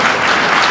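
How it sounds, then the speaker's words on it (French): A burst of dense, loud audience applause at a live comedy show, steady clapping filling the whole moment with no voices. "vous pouvez l'applaudir, c'est pas lui"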